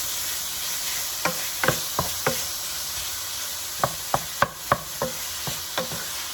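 Ground beef fries with softened onion and garlic in a pan under a constant sizzle, while a spoon scrapes and knocks in two clusters of sharp strokes.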